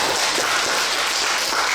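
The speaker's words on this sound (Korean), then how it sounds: "박수 부탁드립니다." Audience applause in a lecture hall at an education forum as a guest speaker begins a talk, a steady dense wash of clapping from many hands throughout, even and fairly loud with no voices over it.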